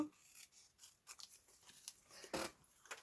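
Scissors cutting off a piece of paper ephemera, a series of soft, close snips and crisp rustles at an irregular pace, quiet and without talk.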